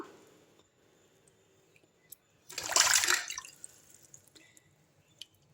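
River tilapia being washed by hand in water, with soft drips and a brief, louder burst of splashing and sloshing in the middle, fairly quiet and close.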